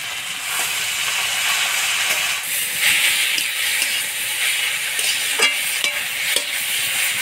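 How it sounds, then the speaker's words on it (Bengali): Water spinach fries in hot oil with a steady, loud sizzle and hiss, broken by occasional clinks and scrapes of a stirring spoon. "ফোড়নের মধ্যে কলমি শাক দিয়ে ভাজা ভাজা করে নিলাম"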